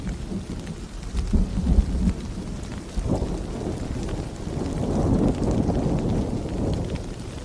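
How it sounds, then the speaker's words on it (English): Thunder rumbles low and heavy through steady rain, with rolling booms building and fading over a constant patter of raindrops and a light wind. "The morning of the storm felt heavy"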